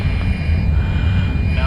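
An F-35 jet engine throttling back out of afterburner in Microsoft Flight Simulator, a loud, continuous low roar with a steady whine on top, close and unbroken, heard alone.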